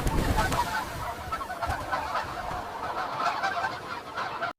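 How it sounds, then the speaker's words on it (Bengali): Geese honk and cackle continuously in a noisy flock, close and loud with overlapping calls and no clear gaps. "এই দেখো বাচ্চারা, গুস। গুসকে বাংলাতে বক হাঁস বলা হয়।"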